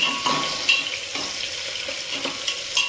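Chopped onion frying in a pan until golden brown for a spiced pulao, a steady close sizzle with light stirring clinks throughout and no talking.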